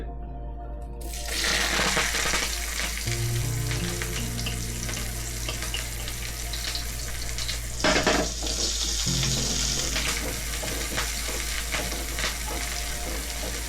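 Hot coconut oil frying ingredients to golden for a Kerala pumpkin chicken curry, a loud continuous sizzle close up with stirring scrapes and a brief louder burst midway, no voices.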